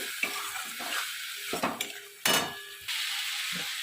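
A utensil scrapes and stirs fish jhal frying in a pan after water is added, with bursts of sizzling between the strokes and occasional metallic clinks.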